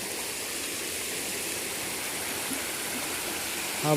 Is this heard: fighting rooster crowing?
no